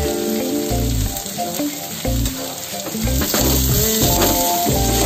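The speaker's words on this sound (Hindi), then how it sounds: "अब हम इसमें डालेंगे मटर, मटर को भी थोड़ी देर पका लेंगे इसी में।" Green peas cooking with spices, salt and tomatoes in a pan for matar paneer, a steady, close sizzle with stirring, over a tonal background hum.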